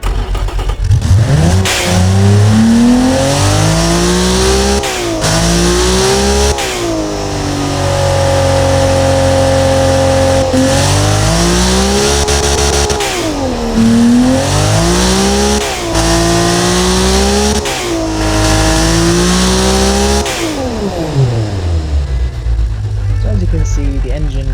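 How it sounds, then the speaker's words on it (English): Simulated Nissan S20 replica engine in the Automation car-building game, revving repeatedly with rising and falling pitch sweeps, loud and continuous for the whole stretch before cutting off near the end. "The engine is running perfectly, and this is how it should have been."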